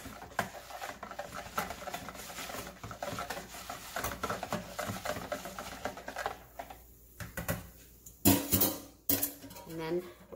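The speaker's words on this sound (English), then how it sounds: "Bring it out and just stir" A spoon scraping and clinking against a bowl as a microwaved KLF mixture is stirred to break up clumps, steady soft patter with a few louder knocks near the end, with a voice talking over it.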